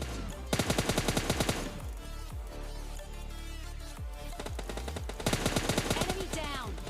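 Gunfire in PUBG Lite, rapid automatic bursts of sharp shots in two clear volleys with single shots and metallic clatter in between, loud and close over a low game background.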